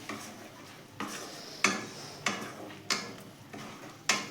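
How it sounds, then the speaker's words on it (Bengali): Prawns are tossed with turmeric and chili powders in a pan for a spicy chingri chochchori, heard as regular spatula scrapes and stirs about once a second over a faint sizzle, close and clear with no talking. "মশলাগুলো মাছের সাথে ভালো করে মিশিয়ে নেব"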